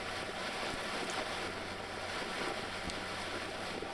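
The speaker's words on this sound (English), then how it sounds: "Engines are at idle." Cruising boat engines idling at no wake speed, a low steady rumble under wind and water noise, faint and continuous.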